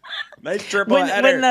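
A voice mimics a rooster's crow, a short harmonic rising-and-falling call after a brief opening sound, loud and close.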